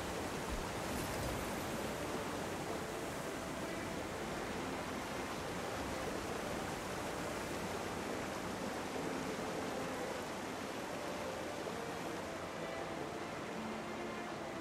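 Waterfall in the video game Guild Wars 2, a constant loud broadband rush of falling water that holds steady throughout with no other clear sounds or voices.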